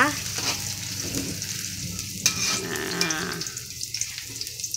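Sardines cooking in a pan, with a continuous close sizzle and occasional stirring scrapes, water running faintly in the background.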